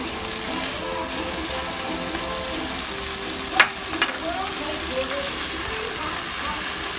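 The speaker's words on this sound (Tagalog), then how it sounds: "saka nyo ilagay itong ating sardines. Ayan, para ginisa siya" Sardines sauté in a pan with a soft, steady sizzle throughout, broken by a couple of brief sharp clinks from stirring near the middle.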